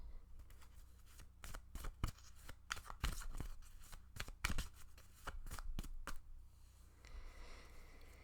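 Tarot cards being shuffled by hand, heard close and alone as a run of crisp, rapid riffles and snaps with short pauses between bursts, fading into softer sliding at the end.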